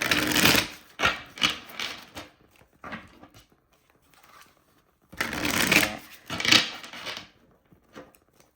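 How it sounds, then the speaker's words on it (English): Playing cards being shuffled in two quick, loud bursts with a pause between, followed by a few lighter riffles and taps, close up. "I apologize if my shuffling is loud"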